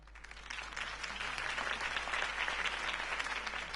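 Sustained applause from a sizable crowd after a campaign speech, a steady dense patter of many hands clapping at full volume for several seconds with no voices over it.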